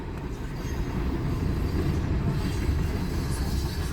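A very long, heavy goods train rolls past close by in Michigan, giving a loud, continuous rumble with rail and wheel noise that stays steady throughout, with no talking.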